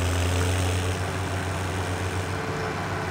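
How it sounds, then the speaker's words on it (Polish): A Welger baler working on a meadow, heard as a steady low mechanical drone and hum from machinery running continuously, moderately loud with no talking. "Dzisiaj sobie wyciągnęliśmy naszą prasę Wellinger i zobaczymy, na co ją będzie dzisiaj tutaj stać"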